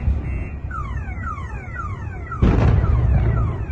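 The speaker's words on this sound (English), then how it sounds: "Also, what a nice alarm." A car alarm cycles through rapid descending electronic whoops, then a sudden loud burst cuts in while the siren keeps sweeping.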